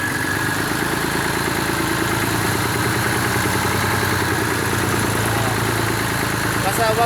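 A hand tractor engine runs in first gear while furrowing a field, a close, steady pulsing putter with a regular rhythm that stays loud throughout.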